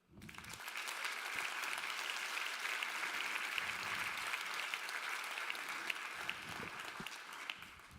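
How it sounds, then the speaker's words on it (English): Warm applause from the audience at an awards ceremony in Portimão, a dense, steady wash of many hands clapping that starts abruptly and carries on at even strength for the full stretch, with no voices over it. "Let's give us a warm applause to Joan Daca."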